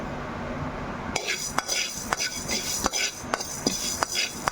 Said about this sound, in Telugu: నేను ఒక పెద్ద స్పూన్ ఆవాలు వేసుకుంటున్నాను